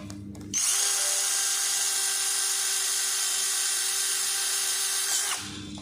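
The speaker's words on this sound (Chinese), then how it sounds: "要用电钻把它打通" An electric drill bores a hole through a drone frame during assembly, spinning up to a loud, steady whine that holds for about five seconds and then cuts off, with no talk over it.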